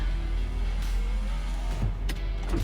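Slow electric power window motors whir inside a Toyota Land Cruiser with 400,000 miles, a faint strained hum over steady cabin drone, ending in a couple of soft clunks.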